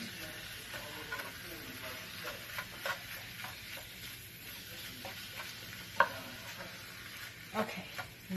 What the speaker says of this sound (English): Now we're just going to mix it up a little bit with the spatula.